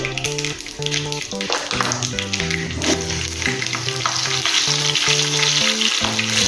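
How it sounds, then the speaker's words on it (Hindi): Mustard seeds and green chillies fry in hot oil, a loud, continuous crackling sizzle under steady background music. "राई अच्छे से हो गई है, हरी मिर्च डालेंगे।"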